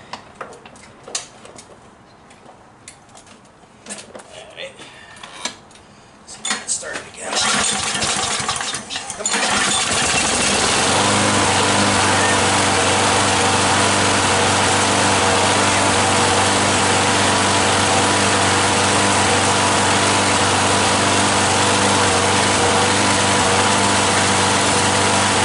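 A lawn mower found at the curbside starts up after a few faint rattling pulls and then runs loud and steady for the rest of the clip, its engine droning continuously up close.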